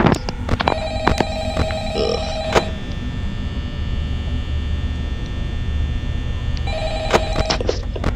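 Telephone ringing in the Five Nights at Freddy's video game, a loud repeated electronic ring in two bursts at the start and end, over a steady mechanical fan-like hum.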